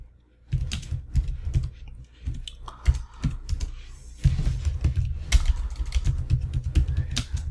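CSS code is typed on a computer keyboard, a close run of quick, uneven clacky keystrokes with short pauses and a brief stop near the start, with no talking.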